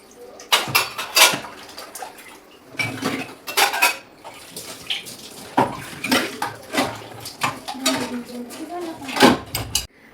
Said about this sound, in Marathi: काढा झाला की मग भांडी धुते.